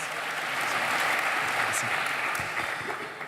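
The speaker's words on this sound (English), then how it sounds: "Give them a warm round of applause" Dense, steady applause from a crowd at a charity developers' event, a continuous wash of many hands clapping close by, holding level throughout.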